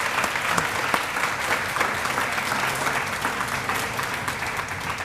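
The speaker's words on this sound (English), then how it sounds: "Let's give them a big round of applause" An audience at a retirement tea applauds honorees, a full, even round of clapping from many hands, loud and continuous with a few sharper claps standing out near the start.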